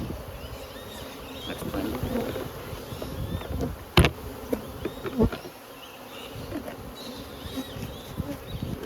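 Honey bees buzzing while beehives are moved, a dense continuous drone close by with a few sharp knocks and bumps; a voice speaks briefly.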